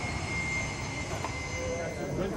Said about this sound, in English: This plane is taking forever.